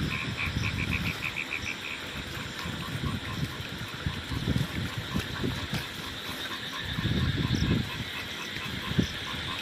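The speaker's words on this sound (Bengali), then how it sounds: "এই আওয়াজ শুনতে পাচ্ছ গাইস, কলা ব্যাঙের আওয়াজ।" Bullfrogs croak at night in the rain beside canals and marshes near a cremation ground, their repeated calls layered in a busy chorus over soft rain patter and low rumbles.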